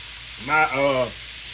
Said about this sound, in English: And let them grill on this side. Get a good grill on them.